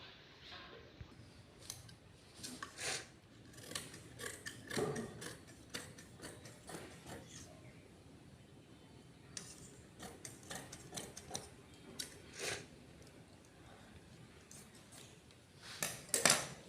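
Scissors cut bridal blouse fabric, a series of quiet, crisp snips and clicks close by, irregular and spaced out, with short bursts near the end.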